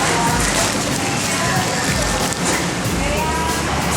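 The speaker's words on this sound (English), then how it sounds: "Starting to rain." Rain begins falling on a city street in New Taipei City, a steady, dense hiss of drops spread evenly and loud throughout, close around the listener, with no clear voices.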